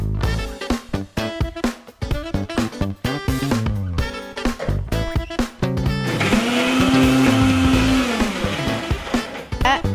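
A mixer grinder grinding coconut chutney with water whirs loudly and steadily, its motor pulsing in short bursts before settling into a continuous high-pitched grinding drone.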